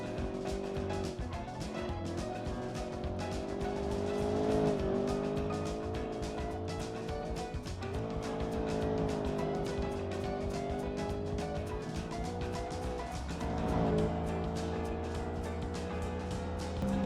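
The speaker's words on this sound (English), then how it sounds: "once the car gets to stretch its legs on the straights, you feel the additional power of the V8 and that it really pulls along nicely" A V8 supercar engine in the Automation car game drones steadily throughout, its pitch rising and falling as it pulls through gears, loud and continuous with no talk over it.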